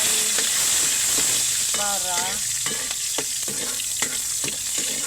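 Onions fry in a pan for pancit, a constant hissing sizzle with repeated stirring scrapes and clacks close by.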